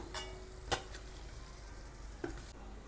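Potato and onion kachoris fry in hot oil with a soft, steady sizzle, broken by a few sharp utensil clinks and scrapes near the start and again later.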